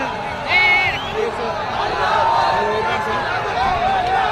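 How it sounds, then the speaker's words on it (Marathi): A dense crowd mills and shoves at a large protest march in Chhatrapati Sambhajinagar, producing a loud, continuous babble of many voices with occasional shouts and whoops rising above the hubbub. "गर्दी में धक्का मुक्की होना"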